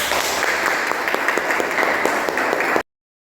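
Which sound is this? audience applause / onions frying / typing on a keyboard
audience applause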